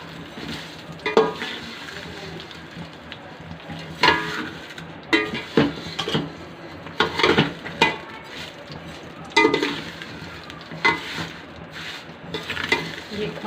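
Thin vermicelli (semiya) toasted over low heat and stirred in a pan. Irregular scraping strokes of a spoon stand out over a soft, quiet sizzle, with small clinks of metal.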